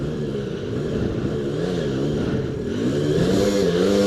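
A Suzuki DRZ enduro motorcycle labours up a steep dirt hill, its engine droning loud and close, the pitch wavering up and down as the throttle is worked, with a continuous rough exhaust note throughout.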